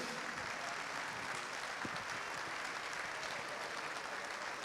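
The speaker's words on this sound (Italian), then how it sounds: "Facciamo anche l'applauso per chi in questo momento è in lista infortuni" A crowd at a basketball opening night gives steady, even applause for injured players, a dense wash of many hands clapping at moderate distance without pause.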